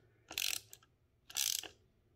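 Two short bursts of rapid ratchet clicking as a screw is tightened on a Ducati Panigale V4 throttle, close and fairly quiet, separated by a brief pause.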